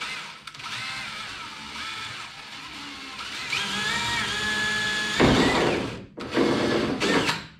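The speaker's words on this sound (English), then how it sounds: "I'm gonna have a crack at drilling" A power drill whines steadily, its pitch rising as it bites in, then cuts out and restarts in short bursts near the end, drilling a hole for a car window channel.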